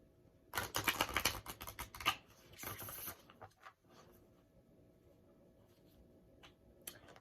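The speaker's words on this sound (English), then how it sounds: "I'm going to shuffle my deck while you thinking of a question to ask." A deck of playing cards is shuffled by hand in a run of quick riffling bursts lasting about three seconds, followed by a few faint, scattered card taps in a quiet room.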